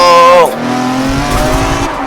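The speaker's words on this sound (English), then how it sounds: "I saw you and I braked, and then I locked up into the wall." In a racing video game, a car brakes hard and locks up into a wall: a loud engine note drops sharply, then rumbling scrape and thudding texture follow, close and continuous over about two seconds.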